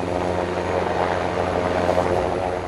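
Super Puma rescue helicopter of the French air force flying over Corsica, a steady loud rotor thrum with engine drone running continuously throughout, no voices.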